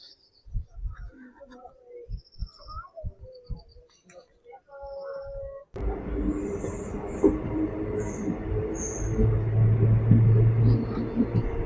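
A train rolls and rattles steadily at a small railway station, with a high squeal appearing partway through. Before that come sharp knocks and quiet sounds, and the noise gets louder and denser as the train gets going.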